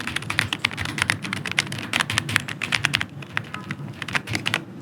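Rapid, steady typing on an Aula F75 mechanical keyboard with foam dampening, close and fairly soft, a dense stream of muted clacks with brief pauses between bursts.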